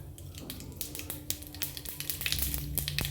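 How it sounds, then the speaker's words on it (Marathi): White sesame seeds drop into hot oil in an appe pan and sizzle and crackle with sharp pops, growing busier and louder as more go in, close up with no talking. "तेल गरम झाल्याच्या नंतर आपल्याला ह्या आप्या पात्रामध्ये सफेद तीळ थोडे थोडे टाकून घ्यायचे"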